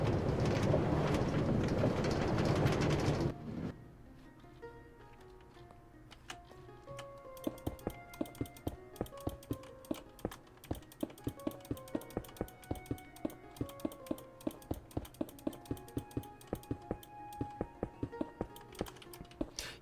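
Right mouse button clicks, captured by a sensitive microphone, come in a fast, uneven stream of crisp taps after a brief burst of louder noise, close and dry, with no voices.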